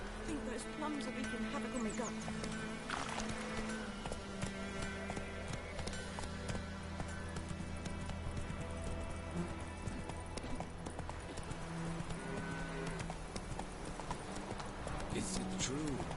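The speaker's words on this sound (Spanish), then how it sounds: "¿Dónde está el caballo?" Horse hooves clip-clop at a steady gallop in The Witcher 3, with an occasional whinny, layered over continuous game music and ambience, with a person talking over it.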